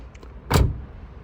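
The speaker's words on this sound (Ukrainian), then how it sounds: "Хорошенько закрились дверки на всі гроші." A 2013 Renault Scenic 1.5-litre diesel has its door shut with a single solid thud, preceded by a faint light click, close by with no talk.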